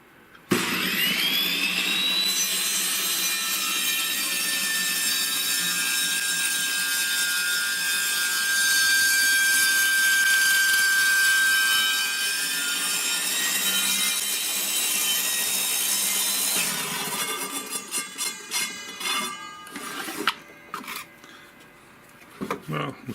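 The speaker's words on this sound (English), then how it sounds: "we're going to take a slab off and see how it cuts to that blade" A re-sharpened saw blade on a table or chop saw cuts a slab off a wooden board, a loud sustained screaming whine lasting most of the time, then spinning down with uneven rattles near the end.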